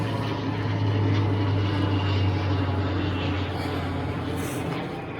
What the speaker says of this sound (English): Let me let this plane go past.